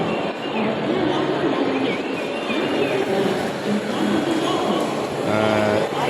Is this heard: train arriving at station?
yes